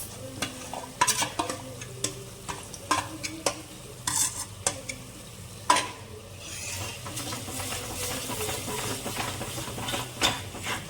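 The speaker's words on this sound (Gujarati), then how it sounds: "એમાં ચટણી લસણ વાળી અને હળદર અને ધાણા જીરું જે મિક્સ કર્યું છે એ આપણે નાખશું" Garlic chutney, turmeric and ground coriander-cumin sizzle in a pan for a green chickpea curry, with a spoon scraping and clinking in irregular strokes over a steady close frying hiss that grows denser toward the end.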